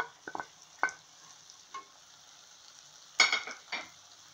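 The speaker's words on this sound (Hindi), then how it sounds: "इसको लेके अच्छे से हम मिक्स कर लेंगे जेंटली।" Boiled Maggi noodles being gently stirred in a pan for Chinese-style Maggi, a few soft scraping and clinking strokes of a utensil against the pan over a faint sizzle, with no talk.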